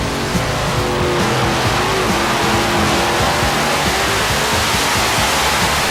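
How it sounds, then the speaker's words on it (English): A pulling tractor fitted with four engines runs on a pulling track, producing a loud, dense, continuous roar that stays steady and unbroken throughout, with no talking. "the tractor's set up right now with 4 engines on it"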